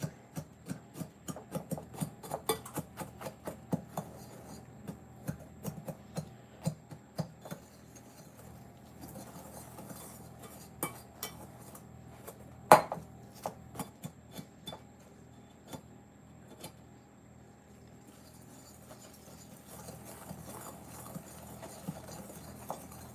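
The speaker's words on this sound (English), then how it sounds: "I like to give this a quick little whisk, kind of break up our sugar here" A whisk stirs sugar and cinnamon in a bowl, making quick, faint, irregular clicks and taps against the bowl that run on and off for a long stretch, with one sharper knock partway through.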